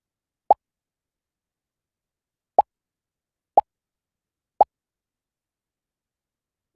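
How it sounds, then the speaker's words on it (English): In a coded smiley face game, a short wobble sound effect pops four times as separate quick, clean blips with irregular gaps, quiet and alone without talking. "I'll go back to my code and change the sound to wobble"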